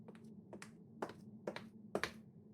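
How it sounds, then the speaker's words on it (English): A single sharp clap effect rings out in Persona 4 Dancing All Night, heard as a few close, crisp percussive hits over a low steady hum. "we hear a clap from the door"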